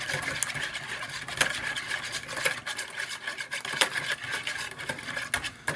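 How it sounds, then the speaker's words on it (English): Eggs are whisked in a bowl for French toast, a fast continuous scraping and clicking rhythm close up, with occasional sharper taps of the whisk against the bowl. "we're gonna whisk that up"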